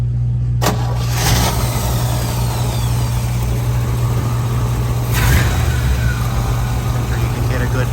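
1957 Chevrolet 210 hardtop engine running steadily at idle, a low continuous rumble heard up close with brief mechanical clatter over it.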